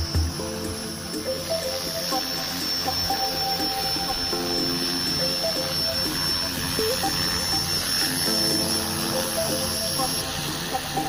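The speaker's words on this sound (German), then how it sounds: "Alter, voll geil geflogen, Thomas!" T-Rex 470 RC helicopter flying overhead, a steady high whine of rotor and motor holding across the whole stretch at fairly loud level, with people talking excitedly over it.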